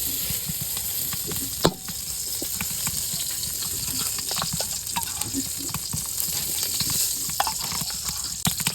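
Ghee sizzling in a cooking pot for pulao after the meat is browned, a dense continuous crackle with scattered pops and a single loud clank early on, close up and without talk.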